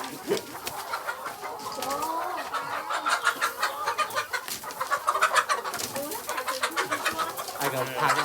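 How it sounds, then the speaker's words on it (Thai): Flock of about one hundred laying hens being delivered to a school in Samut Sakhon, Thailand, clucking and squawking continuously at close range, with dense overlapping calls that swell toward the middle and a faint voice in the background. "ตอนนี้เอาไก่มาส่งนะครับ"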